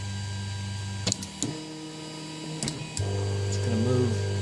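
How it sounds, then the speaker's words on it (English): A 3D printer auto-homes, its stepper motors humming and whining in shifting tones as the print head and bed travel, with brief clicks as the motors stop and restart. "It's going to move the print head all the way down to the 0 position until it hits the sensor, and it moves the bed back into position as well."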